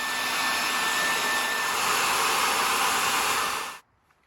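A heating tool warms the butyl adhesive on a VW MK7 Golf R spoiler, blowing with a steady, loud, hair-dryer-like whoosh before cutting off abruptly near the end.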